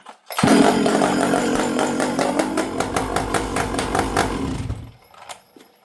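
A STIHL 064 chainsaw fires up cold without choke and runs loud and close for several seconds with rhythmic revving pulses, then cuts off abruptly into near silence.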